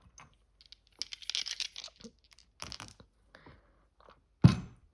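A handful of small astrology dice is handled: scattered soft clicks and rattling bursts, close and quiet, ending in one sharp, louder clatter as the dice land.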